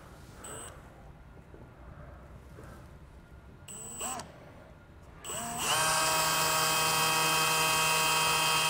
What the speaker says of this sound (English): we're going to do that by using a 2 1/8 inch hole saw